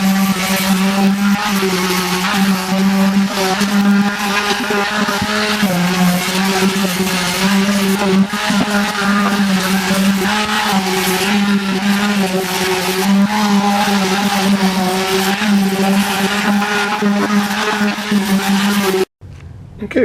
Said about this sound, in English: So I'm going to just, using the palm sander,